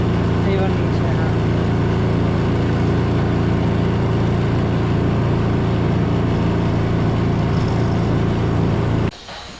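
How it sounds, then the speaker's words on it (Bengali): Petrol engine of a hybrid loader vehicle running at a steady, even drone, close and constant, then cutting off abruptly near the end. "এরা আওয়াজটা কম করে দিয়েছে ইঞ্জিনের"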